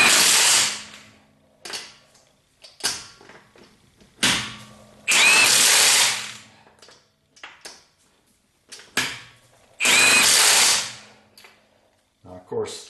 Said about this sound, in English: Impact wrench, I should say.